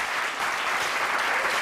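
An audience claps and cheers at a live show, a dense, loud burst of applause that holds steady throughout the short stretch.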